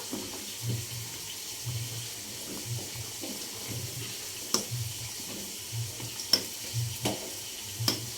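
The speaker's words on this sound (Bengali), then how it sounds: "তো এই যে দেখতে পাচ্ছ এখানে পায়েস রান্না করছি।" Payesh, a rice pudding, cooking in a pot while being stirred, a low rhythmic bubbling with soft scraping and occasional sharp clinks of the spoon against the pot, steady and fairly quiet.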